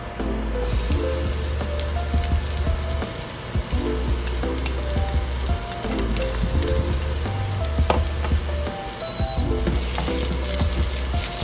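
Onion sizzles and crackles steadily in hot oil in a cooking pan, a loud, close frying hiss with occasional stirring scrapes and no voices.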